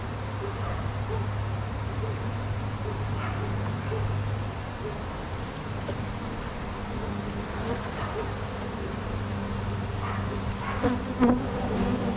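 Honey bees buzzing inside an opened hive, a steady dense hum with individual bees droning past close by, over faint background noise.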